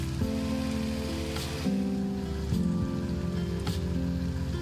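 Rain falls steadily in the farming game Farm Together 2, a soft continuous patter running under tonal background game music, with no voices.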